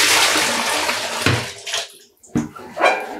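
Dye bath water, now clear after the dye has exhausted, poured out of a vessel in a home yarn-dyeing setup; a loud continuous splashing pour that breaks off, followed by a few shorter sloshing bursts.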